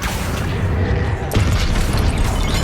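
Confringo blasting spell exploding in the Hogwarts Legacy video game, two sharp booming bursts about a second apart with crackling decay, loud and close amid combat noise.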